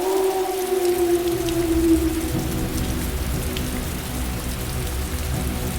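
Steady rain patters down continuously over a cemetery in a cartoon, a dense wash of drops with a low rumble underneath and a fading tonal whine at the start.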